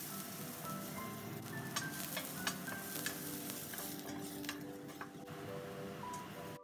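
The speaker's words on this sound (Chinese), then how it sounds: "首先爆香啲蒜頭" Garlic is stir-fried in a wok with a steady, close crackling sizzle and occasional light scrapes and taps of a spatula, at a fairly quiet level.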